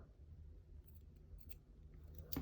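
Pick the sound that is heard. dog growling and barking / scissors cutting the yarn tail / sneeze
scissors cutting the yarn tail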